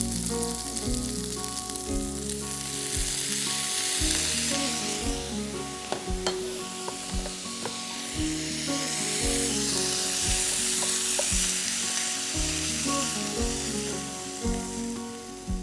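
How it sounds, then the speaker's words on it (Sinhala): Chicken fries in a pan with a loud, steady sizzle running throughout, broken by stirring scrapes, while tonal music plays underneath and no one speaks. "චිකන් එක ෆ්‍රයි වුණාට පස්සේ ලිපෙන් ඉවතට ගන්න කලින්"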